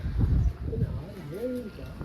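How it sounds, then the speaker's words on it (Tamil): A large bird, likely a pigeon or dove, gives a few soft, low coos, with people talking nearby. "இது பெரிய பறவை"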